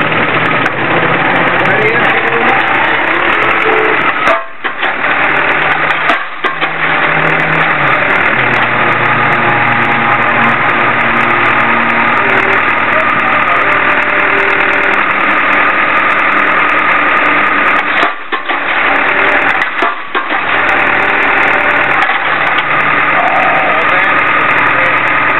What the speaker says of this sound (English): You got this hydraulic driver.